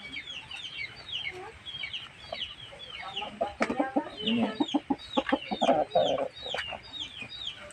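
Gamefowl chickens cluck and chatter close by, with busier, louder clucking toward the end and a brief spoken remark mixed in.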